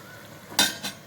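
Chicken pieces frying in oil in a pan, with a steady low sizzle broken by two quick, close scrapes or clinks of stirring.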